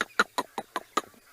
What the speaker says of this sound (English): if you can hear the monkeys in the background